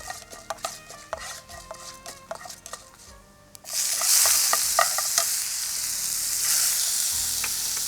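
Crushed small shallots tip into hot oil and sizzle loudly as they are stirred in the pan, after a stretch of quieter clinks and tapping of utensils.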